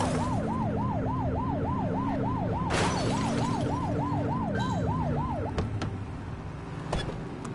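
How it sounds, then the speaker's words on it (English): Police car siren in a police-precinct video game, a loud wailing tone rising and falling steadily for several seconds over engine hum, then cutting off, followed by a few sharp clicks. "Get behind them and flip the siren to make them pull over."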